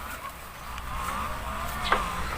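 Muscovy ducks on a small farm give low, rough calls against a steady outdoor murmur, with one short, sharper honk-like cry near the end.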